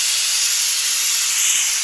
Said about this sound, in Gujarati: અહીંયા કુકરમાં 1 સીટી થઈ ગઈ છે